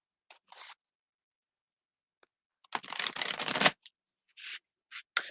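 Tarot cards being shuffled in bursts of riffling and sliding, a longer dense shuffle in the middle with short quick flicks before and after, close and fairly quiet with no talking.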